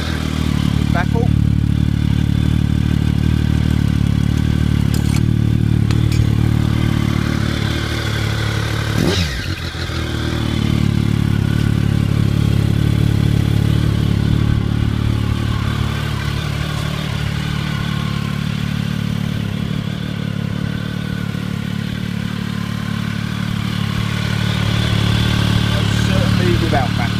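A Triumph 1050 GT SE motorcycle idling and revving with its aftermarket exhaust running without a baffle, a loud, close, throbbing low rumble held throughout with a brief blip around the middle.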